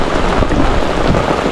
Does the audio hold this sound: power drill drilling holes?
no